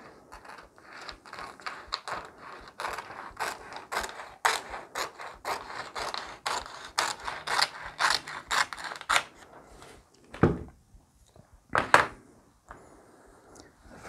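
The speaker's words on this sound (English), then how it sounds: "cut up the edge here." Scissors make a rapid run of crisp snipping cuts along the rough edge of a sheet of Mylar archival wrap used on a vintage book dust wrapper, close and steady, then a pause and a few last separate snips.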